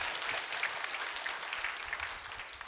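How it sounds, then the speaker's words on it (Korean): A church congregation at Sunday worship applauds two volunteers, a steady wash of many hands clapping together, fairly faint and distant, with no speech on top. "두 발렌티어에게 고맙다고 박수 한번 치겠습니다."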